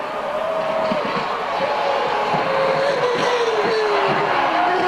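Jacques Villeneuve's Formula 1 car on a qualifying lap at the 2003 Canadian Grand Prix, its engine screaming loud and close throughout, pitch rising and falling through the gears with a faint crowd in the background.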